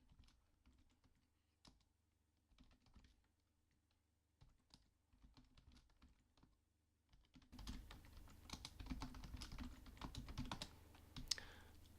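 Computer keyboard keys tapped in short, irregular bursts while code is entered in Sonic Pi, quiet and close, then a louder, busier stretch of typing over a faint background hum.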